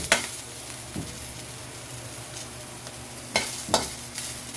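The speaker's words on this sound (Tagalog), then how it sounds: "So antayin lang natin maluto yung bawang, sibuyas at luya" Garlic, onion and ginger sauté in a pan for chicken adobo, with a constant close sizzle and a few sharp stirring clacks.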